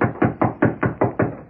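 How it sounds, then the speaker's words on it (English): Knocking on a wooden door in an old-time radio drama, with eight firm, evenly spaced raps in a steady rhythm, close and resonant, alone without speech. "a rap on the door brought a quick response"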